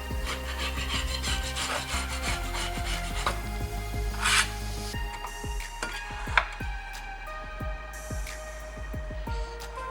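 Continuous close scraping and rasping as a wire brush and Scotch-Brite scrub a valve cover clean, steady and busy with a few sharper scratches, no voices.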